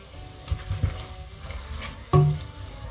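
Meat simmering and frying in its own juices in a pan for hunkar begendi, a steady soft sizzle with a few stirring knocks and one sharper clatter near the end, no talking.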